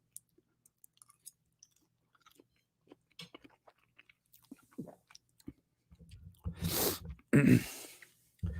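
Close, soft chewing and biting on a burrito, heard as scattered small crunchy clicks that build into louder bursts of mouth noise near the end.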